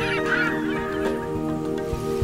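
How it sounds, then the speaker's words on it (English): A seagull gives a harsh, wailing, squawking call, loud and drawn out, with layered cries running without pause through the whole stretch. "Seagull have a harsh wailing or squawking call."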